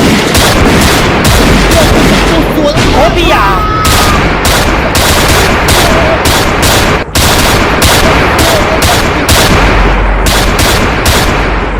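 Gunfire in a Jamaican short film scene, loud, near and continuous, with rapid repeated shots over a dense crackling roar across the whole stretch, with shouting voices mixed in.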